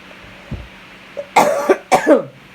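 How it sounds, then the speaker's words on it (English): A few close, sharp coughs in quick succession, rising loud against a quiet background with a faint throat sound just before. "Gotta remember how to cough again."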